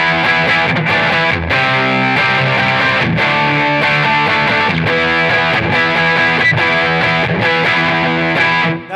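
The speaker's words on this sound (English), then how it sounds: "Let's go into like a nice distortion sound." Guitar played through a Catalinbread Dirty Little Secret Deluxe overdrive set for heavy distortion, sustained saturated chords ringing loud and continuous with rhythmic strums, no talking.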